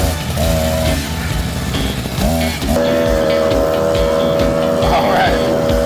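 A small motor on a mini scrap-yard train engine revs loudly and close in rising and falling bursts with a buzzing drone, while people talk excitedly over it.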